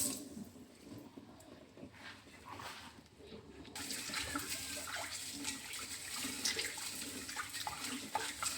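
Tap water runs into a bowl as soaked mixed lentils are rinsed, a steady splashing hiss that grows louder and fuller partway through.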